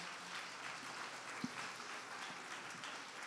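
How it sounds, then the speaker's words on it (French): Applause from an audience at a Marseille industry event fills the whole stretch as a steady, moderately loud wash of clapping, with no voices over it. "On peut l'applaudir bien fort"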